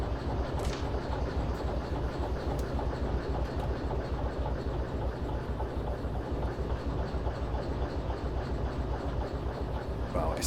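Steady clickety-clack of a locomotive shunting train cars in the Derail Valley railway game, a continuous low rolling rumble with rhythmic wheel beats at moderate distance, with no talk during the clip.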